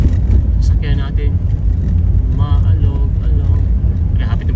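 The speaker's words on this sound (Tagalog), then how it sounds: "Butas pala yung daanan dito, guys. Kaya maalog-alog yung sasakyan natin." A vehicle jolts and rumbles over a potholed road between Tagum City and Veruela in Agusan del Sur, with a steady loud low drone under near voices.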